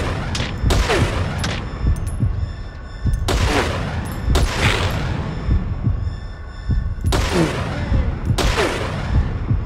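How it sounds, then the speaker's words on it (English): Several loud, sharp gunshot bursts ring out at irregular intervals over a steady low background hum, gunfire in the video game Metal Gear Solid V: The Phantom Pain. "they heard that gunshot."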